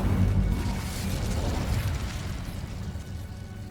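A fire spell called Incendio bursts in Hogwarts Legacy, a loud, dense whooshing blast that starts strong and rumbles steadily for several seconds before easing slightly.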